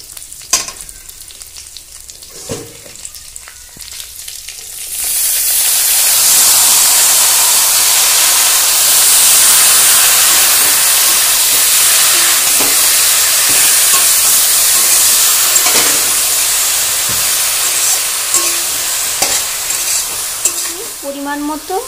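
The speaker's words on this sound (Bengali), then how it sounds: "রসুনটা ফ্রাই করে নিয়েছি, এবার দিয়ে দিচ্ছি সেদ্ধ করা লাউ শাক।" Boiled bottle gourd greens go into a pan of fried garlic and green chillies. After a few seconds of quiet stirring the pan bursts into a loud, steady sizzle and hiss that continues under occasional stirring, with no talk.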